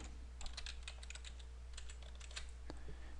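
A password is typed on a computer keyboard, a quick run of soft, close key clicks over a steady low electrical hum, fairly quiet and with no talking.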